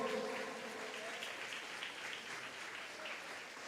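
Church congregation applauding during a Sunday evening service, steady sustained clapping from a crowd filling the room with no voices over it.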